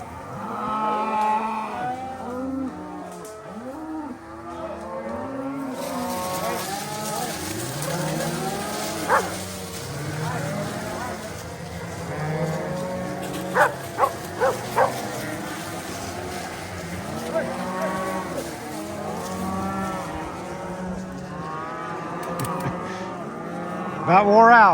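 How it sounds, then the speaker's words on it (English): A herd of cattle moos continuously while being pushed up a Colorado mountain pasture, overlapping calls near and far, with a few short sharp knocks partway through. "pushing these cows up here."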